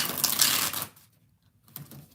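A quick riffle of tarot cards being shuffled, a dense rustling burst lasting under a second, then quiet and a brief softer shuffle.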